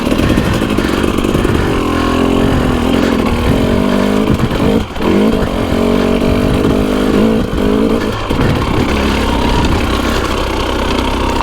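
A two-stroke Husqvarna motorcycle engine runs loud and close throughout, idling roughly with uneven revs, a brief bogging dip and sputter midway, then settling again.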